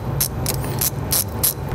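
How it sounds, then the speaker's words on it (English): A wrench loosening the nut on the positive terminal connector of a car battery, five evenly spaced, crisp ratcheting clicks close up, no talking. "I'm just going to take and loosen the accessory connector on here on the positive"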